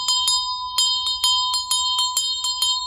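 A small handbell rung rapidly in a ritual to call in ancestors, bright metallic strikes repeating about ten times with a sustained high ringing tone between them, near and clear.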